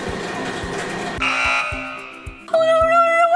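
Airport baggage security scanner sounding electronic alarm tones, with a steady buzzing beep followed by a higher pulsing alert, fairly loud and close.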